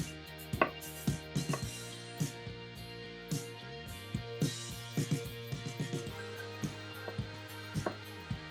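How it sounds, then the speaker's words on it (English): A knife slices beef thinly for a Japanese beef bowl, producing soft, irregular taps on a cutting board at close range, spaced unevenly and fairly quiet against a still background. "It's important to cut this meat nice and thin."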